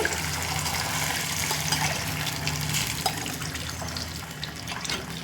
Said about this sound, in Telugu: ఇదే గ్లాస్తో వాటర్ వేసేస్తున్నాను